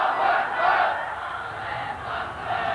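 A large gathered crowd roars the takbir slogan in unison at a religious sermon, a loud sustained swelling chant that rises and falls in waves.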